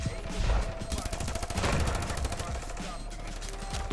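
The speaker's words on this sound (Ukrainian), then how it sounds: "Ти стріляєш на Ірку." Sustained gunfire in a shooter video game, with rapid automatic bursts rattling in dense, steady volleys throughout at moderate, close loudness.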